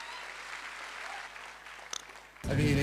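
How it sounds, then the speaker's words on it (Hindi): Audience clapping at a network marketing seminar in India, a soft distant patter of applause that gives way to a louder burst of sound at the end. "खुशी लग रही हो, अच्छा लग रहा हो तो ताली बजाना"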